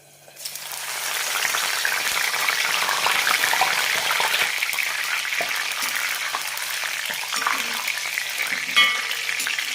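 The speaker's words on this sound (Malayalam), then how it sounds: "കുറച്ച് കറിവേപ്പില കൂടി വറുത്തെടുക്കാം." Curry leaves fry in hot oil with a bright, steady crackling sizzle that starts almost at once and continues close up throughout, with a few small pops.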